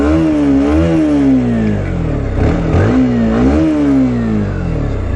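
A motorcycle with its stock exhaust idling close by, loud and steady, its engine rising in two brief revs before settling back to a rumbling idle.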